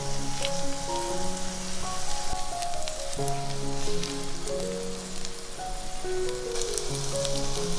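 Shrimp cakes sizzle and fry steadily in a pan over medium-low heat, a constant crackling hiss beneath a gentle melodic music track.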